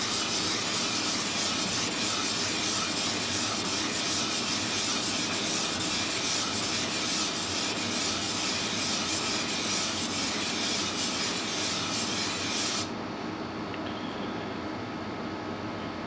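Abrasive grit paper rasps steadily as a homemade surface gauge is lapped across it, one continuous scraping rub that runs without pause for most of the stretch and then drops to quiet near the end, with no talking.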